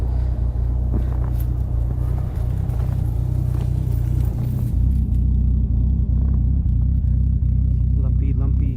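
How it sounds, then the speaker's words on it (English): A car fitted with summer tires spins its wheels in snow on a driveway, a loud, steady low rumble of revving engine and churning tires that surges and holds for the whole stretch, with no talking. "You can kind of see the wheels spinning right there."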